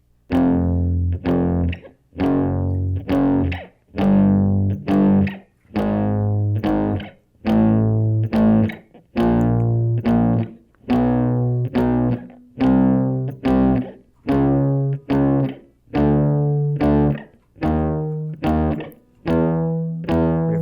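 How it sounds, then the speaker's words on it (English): Chugging, palm-muted electric guitar strums in short, evenly spaced bursts, a steady rhythmic pattern with a tight, dampened attack. "same thing with the palm mute with the right hand"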